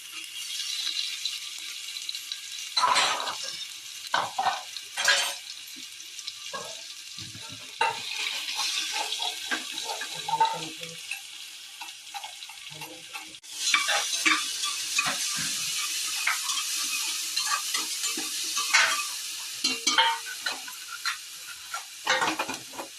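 Chili thecha is dropped into hot oil with crackling mustard seeds and stirred, giving a steady close sizzle and frying hiss with repeated scraping stir strokes and small utensil clicks throughout, with no talking.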